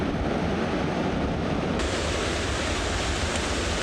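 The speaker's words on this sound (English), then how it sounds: "A lot of water still coming down." Steady roar of water rushing down a mountain stream in Kings Canyon in the Sierra Nevada, a dense, unbroken wash of noise that stays close and loud throughout, with no voices.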